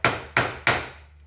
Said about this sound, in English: I'm just going to tap this gently